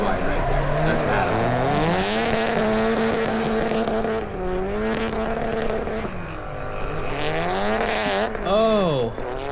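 Pro-am drift cars roar through a battle run, engines revving up and down in sweeping pitch bends with tire squeal, loud and near, while a commentator talks over the action.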